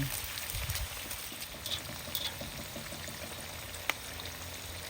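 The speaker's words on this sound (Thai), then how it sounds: "เจียวให้มันหอมเจียวใส่น้ำมัน" Shallots and garlic frying in oil for a Lao jaew bong chili paste, giving a steady, soft crackling sizzle with an occasional small pop.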